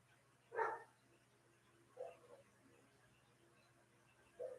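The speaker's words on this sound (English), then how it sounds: "my dog's out there barking" A dog barks outside, three faint, distant single barks spaced a couple of seconds apart over a quiet background hum.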